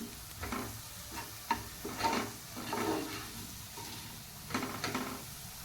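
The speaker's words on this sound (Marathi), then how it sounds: "हे सर्व मसाले आपण दोन मिनटं छान भाजून घेऊया" Turmeric, red chili powder and garam masala roast and sizzle in a pan for a bottle gourd masala dish, with a spoon stirring and scraping at a steady pace, fairly quiet and with no voices.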